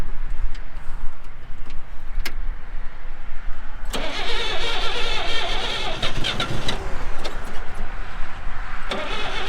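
A forklift engine cranks over with a ticking starter, then catches and settles into a loud, steady running rumble nearby, with a few sharp clicks and knocks on top.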